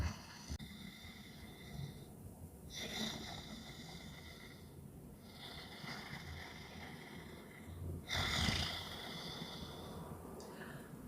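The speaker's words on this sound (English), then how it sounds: "you can hear this kind of whispering breathing sound" Slow yogic breathing drawn through a constricted throat, with long whispering, hissy inhales and exhales in a steady cycle, close but quiet with nothing else around it.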